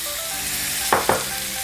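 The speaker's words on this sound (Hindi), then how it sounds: "जीरा ब्राउन होने के बाद हम इसमें अनियन ऐड कर देंगे।" Onion goes into hot oil with browned cumin for a spiced taro dish, giving a steady close sizzle with two quick, louder hissing bursts as the pieces hit the oil. No one speaks.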